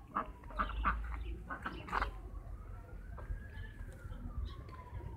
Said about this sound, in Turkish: Bunlar da bir çeşit tavuk ama ne çeşit olduğunu ben de bilmiyorum.